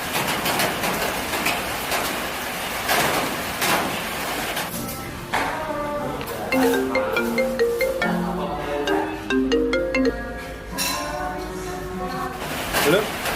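A mobile phone ringtone plays a bright melodic tune during a call to a friend who is not at home. The notes repeat steadily at moderate loudness over a soft noisy background.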